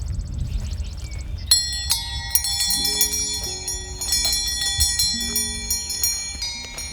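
A hanging bell on a newly set post rings out several times, clear bright strikes with ringing tones layered over each other, close by and alone over faint background.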